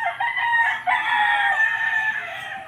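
A rooster crows loudly and close by in a single long, drawn-out call, broken by a brief dip partway through, with no talking.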